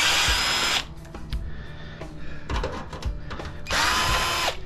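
A power drill backs screws out of a scrap bubbler's stainless steel casing, with two loud, close bursts of whirring at the start and end and quieter clanks and handling noise in between.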